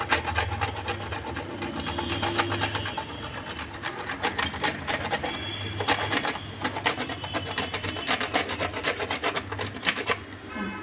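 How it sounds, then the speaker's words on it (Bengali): A nutmeg is rubbed across a grater for a chicken dish, making quick repeated rasping scrapes in a fast, steady rhythm that are close and fairly loud, with only a little background noise. "এই যে একটা জায়ফল অল্প একটু ঘষে দেব"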